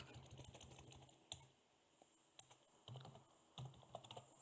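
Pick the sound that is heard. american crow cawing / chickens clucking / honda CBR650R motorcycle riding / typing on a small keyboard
typing on a small keyboard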